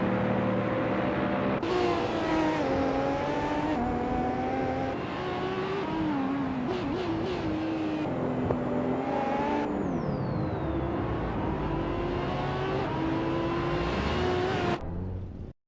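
Race car engines in a video game race, a steady loud whine with rising and falling pitch sweeps as cars speed past, running without a break for nearly the whole stretch before cutting off at the end.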